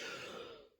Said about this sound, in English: I still can't get rid of this cough.